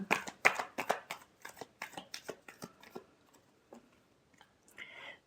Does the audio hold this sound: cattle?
no